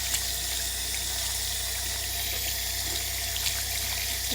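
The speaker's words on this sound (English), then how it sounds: "I'm going to turn on the cold water and a little bit of hot water" Water runs steadily from a bathroom sink tap, a mix of cold and a little hot, a constant low hiss and trickle with no talk over it.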